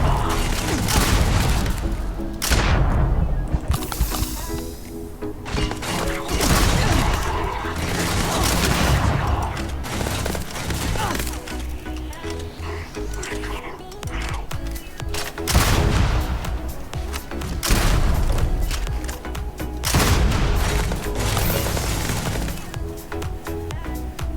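Shattered Shock weapon blasts fire repeatedly in Starfield, a dense run of loud booming shots and crackling explosions in rapid bursts with brief gaps.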